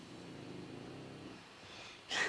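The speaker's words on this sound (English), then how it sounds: "you hear my doggy snoring" A dog snores quietly indoors with a faint, low rumbling breath that ends in one short, sharper snort; no one speaks.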